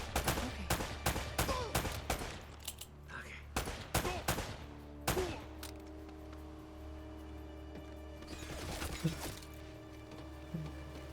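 Rapid gunfire in the video game Uncharted: Drake's Fortune comes as sharp close bursts and single cracks in clusters with short pauses, followed by a quieter stretch with low hum and scattered clatter.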